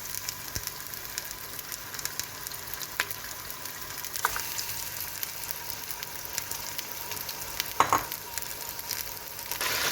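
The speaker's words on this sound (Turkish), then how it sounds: "Kavuracak çünkü etimizi ilk önce." Bone-in meat sautéing in a pot gives a soft, steady sizzle throughout, with a couple of brief clinks of stirring cutting through the quiet frying hiss.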